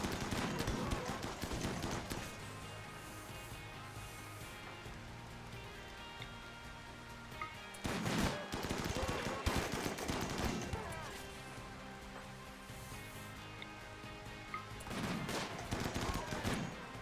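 Bursts of video game gunfire hit a mini turret, with dense rattling volleys breaking out in loud clusters and dropping to quieter background battle noise in between. A voice talks over part of it.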